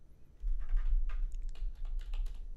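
Typing on a computer keyboard, with a short burst of close, irregular clicking key taps over a low hum, no voices.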